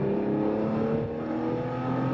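A Porsche 911 2.7 engine hums steadily and close, its pitch shifting only slightly during heel-toe, double-clutch driving. No voices are heard.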